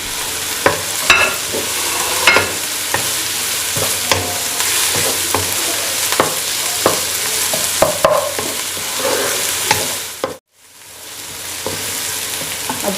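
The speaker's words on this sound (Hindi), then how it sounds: "ये लहसुन अदरक है कुटा हुआ, ये भी डाल देते हैं।" Crushed garlic and ginger hit hot oil with onions in a karahi while cooking white mutton karahi, giving a loud, steady sizzle with occasional stirring scrapes and a brief drop near the end, close and without talk.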